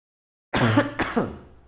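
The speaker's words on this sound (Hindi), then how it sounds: "ये खांस रहा हूँ मैं इस तरीके से" A man with a slight fever coughs and clears his throat twice in quick succession, close and loud, alone after a moment of silence.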